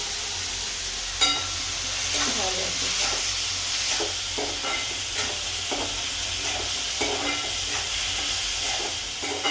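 Vegetables frying in a kadhai for an aloo paratha filling, a constant hissing sizzle punctuated by scattered scrapes and clinks of a stirring spoon, close and steady.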